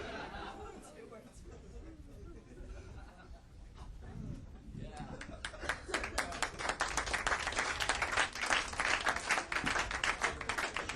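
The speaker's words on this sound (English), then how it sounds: "Isn't it funny that that's what you applauded at?" Audience applause mixed with crowd chatter at an Andrew Dice Clay stand-up show, beginning as a murmur and swelling into sustained clapping that grows louder over the second half.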